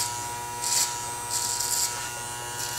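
Electric hair clippers buzzing steadily while fading a brush cut with the blade opened slightly, a close, constant motor hum with brief brighter bursts as the blade bites into hair, no voices.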